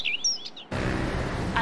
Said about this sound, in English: I can hear the birds chirping.